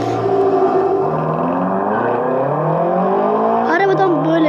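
A BMW M6 engine starts and revs, its loud, continuous drone sliding up and down in pitch through several rises and a sharp surge near the end, with no talking.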